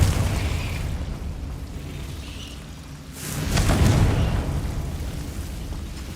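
A Confringo blasting curse explodes in a Harry Potter video game, a sudden loud burst midway that swells into a deep, rumbling boom before slowly fading over a low background.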